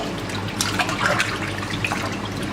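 Cold tap water runs steadily over smoked salmon being rinsed in a kitchen sink, a continuous close splashing wash with small surges and drips throughout.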